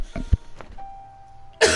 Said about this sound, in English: when I start to laugh, It makes you cough